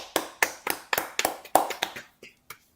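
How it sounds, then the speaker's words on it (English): A handful of people applaud in memory of the late Jim Pappin, two-time Stanley Cup champion with the Maple Leafs and Blackhawks, with a few distinct claps that thin out and fade over a couple of seconds. "We'll give him a round of applause."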